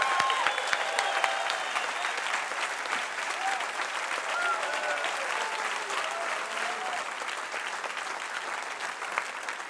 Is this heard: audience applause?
yes